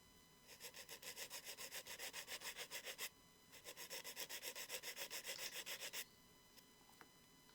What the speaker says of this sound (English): So just lightly sanding that just to get rid of the nubs on there.